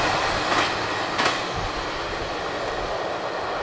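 CSX I-010 intermodal freight train, running from Bedford Park, Chicago, toward Port Newark, New Jersey, rolling past on the tracks with a steady heavy rumble and faint wheel clicks, close and continuous.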